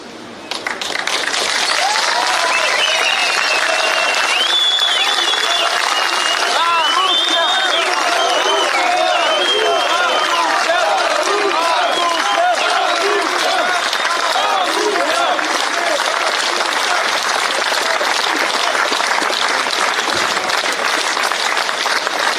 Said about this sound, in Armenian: Քննչական կոմիտեի բակում հավաքված Ծառուկյանի աջակիցները ծափերով են դիմավորել ու ճանապարհել նրան